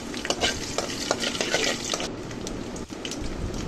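Steady sizzling and crackling of mustard seeds, cumin and garlic frying in hot oil in a pan, with occasional scraping of stirring, close and continuous.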